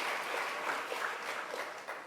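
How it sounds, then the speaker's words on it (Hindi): Audience at a Jain sermon in Ratlam applauding together, a dense, even wash of clapping heard from a middle distance, fairly faint, holding steady for a couple of seconds. "चलो एक बार तालियों की करतवल ध्वनि से अनुमोदना तो करो।"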